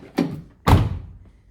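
A Fiat Palio car door shuts twice nearby: a lighter thunk comes first, then a heavier, solid slam that fades into quiet. No one speaks.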